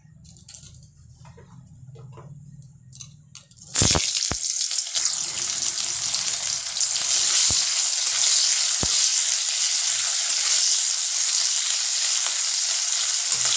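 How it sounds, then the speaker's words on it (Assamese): Onions tipped into hot oil in a wok burst into a loud, hissing sizzle after a few near-quiet seconds, then keep frying strongly and steadily with an occasional faint clink, close and with no voices. "এয়া কেৰাহীত তেল গৰম হৈ গৈছে এতিয়া মই অলপমান পিয়াজ আছে এইখিনি ভাজি লম"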